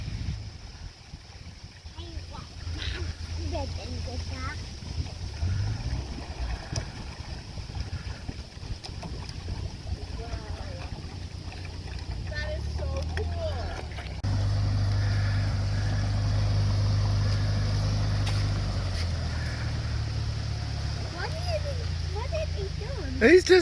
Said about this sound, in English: It's a boat car, license plates and everything.